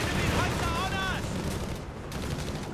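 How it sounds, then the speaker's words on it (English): Gunfire and explosions fill a battle in the World War II strategy game Company of Heroes 3, with dense rattling bursts and booms as a commentator talks over the din. "Guns blazing up and car withdrawing, damage being inflicted at a punishing level here."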